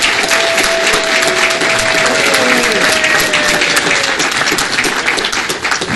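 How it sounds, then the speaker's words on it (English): A crowd at a city council meeting gives a full round of applause for a planning director, dense steady clapping throughout with a faint voice or tone drifting underneath. "Margot, let's give her a great round of applause."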